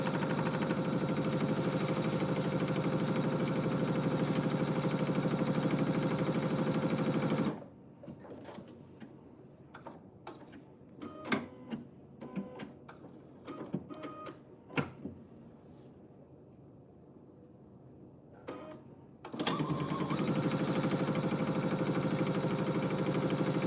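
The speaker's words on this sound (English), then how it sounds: "we're going to sew these two pieces together. So our off-white and our brown." Sewing machine stitching off-white and brown quilt pieces together, a loud steady motor whir running for several seconds, pausing amid small clicks and handling, then starting again, close with no talk.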